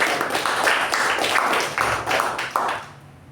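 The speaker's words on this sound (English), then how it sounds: "So can we have a round of applause for both the speaker and the" Audience applauding a Toastmasters meeting speaker and evaluator: a burst of hand clapping from a modest group, fairly close and loud, tapering off toward the end.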